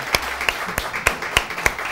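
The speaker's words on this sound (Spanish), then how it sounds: "Si van a aplaudir, aplaudan" A small audience at a children's show claps in a loose, slightly uneven rhythm, about six sharp hand claps ringing out fairly close and loud with no talking over them.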